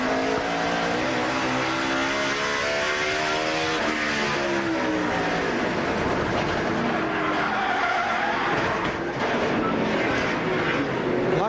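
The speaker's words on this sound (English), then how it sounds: "Listen for the chattering of the rear tires from this onboard view." NASCAR stock car under hard braking heard from onboard, rear tires chattering against a loud engine roar with pitch sweeping up and down, dense and close throughout.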